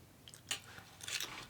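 Close, quiet chewing of an egg cooked crispy at the edges in a Dash mini waffle maker, with two soft moist bites.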